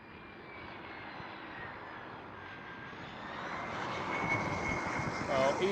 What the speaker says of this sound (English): EasyJet A319 is landing.